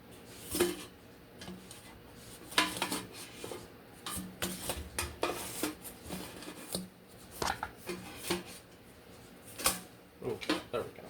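Pepperoni pizza calzones made with tortillas being turned over in an air fryer basket, a run of close scraping, clinking and rubbing handling noises in irregular bursts, with someone talking at times.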